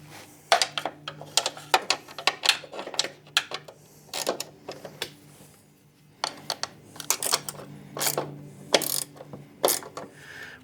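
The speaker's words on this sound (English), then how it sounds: "I'm gonna find us a socket and a really long extension." A socket ratchet wrench on a long extension clicks in quick bursts of pawl ratcheting, close and fairly quiet, with short pauses between strokes while turning a bolt on a BMW Airhead motorcycle.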